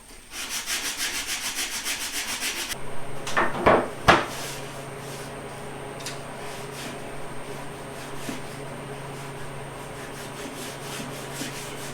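A wooden zero-clearance throat plate for a table saw is hand-sanded, with a rapid, steady rasping of strokes for a few seconds, then a couple of louder rubbing scrapes, followed by quiet room tone.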